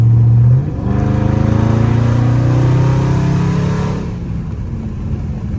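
A Scat Pack car engine in eco mode idles with a low, steady rumble, briefly rising in a mild rev before settling back to a quieter hum.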